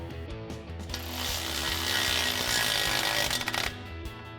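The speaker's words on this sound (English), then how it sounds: "tighten our tip clamp down with our 14mm socket on our ratchet" A ratchet with a 14mm socket, backed by a 14mm wrench, tightens an exhaust tip clamp on a 2022-2024 Toyota Tundra with a Flowmaster FlexFX single exhaust, giving close, steady mechanical clicking and grinding for several seconds with no talk.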